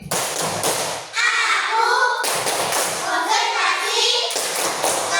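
Classroom of children doing a rhythmic 'tepuk konsentrasi' concentration clap, several bursts of group clapping mixed with children chanting together, loud and close.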